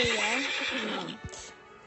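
A horse in a video game rears and lets out a long, loud whinny, with a few hoof thuds underneath, all close and clear as the neigh fades out.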